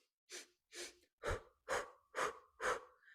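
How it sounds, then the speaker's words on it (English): A person breathes deeply during a breathing exercise, six evenly spaced breaths in a steady rhythm, close and clear against silence. "So we're breathing in."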